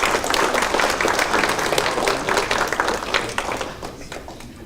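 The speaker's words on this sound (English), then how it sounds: "A round of applause for them." At a Hall of Fame banquet, an audience gives honorees a round of applause, with steady crowd clapping that gradually fades toward the end.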